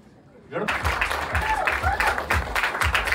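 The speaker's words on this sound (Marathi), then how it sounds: "जोरदार टाळ्या झाल्या पाहिजेत एकदा ये रे पैसा 3च्या या धमाकेदार ट्रेलरसाठी" An audience breaks into applause at a film trailer launch event for Ye Re Ye Re Paisa 3, with clapping swelling suddenly and continuing under an announcer's voice; close, loud and dense.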